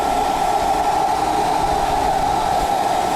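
A hair dryer blows steadily on fresh white paint over a stencil held in place, a loud, even, continuous whoosh with a constant tonal hum, running alone without pause.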